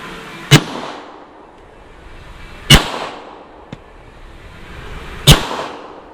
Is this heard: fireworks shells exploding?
yes